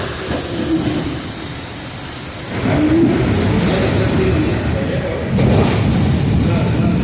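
An R44 subway car from the 1970s, a clunky old train on the line near Arthur Kill, accelerating with a rising rumble and rattle that swells twice, heard from inside the car while people talk over it.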